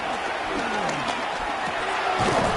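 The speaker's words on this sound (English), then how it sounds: "This crowd trying to be a factor, getting very loud now." A crowd in a Madden football video game roars loudly and continuously throughout, with a voice faintly present under the noise.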